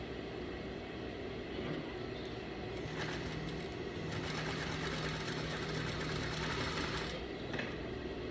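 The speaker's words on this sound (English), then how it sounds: "I always want to back stitch to secure my seams." A sewing machine backstitches a seam on a single welt pocket in a steady, continuous mechanical whir. The motor hum stays even throughout with no one speaking.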